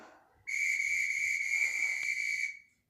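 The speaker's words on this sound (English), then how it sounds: "So ignore the next whistle." A workout timer whistle gives one shrill, steady tone that holds for about two seconds before cutting off, loud and clear over a quiet room.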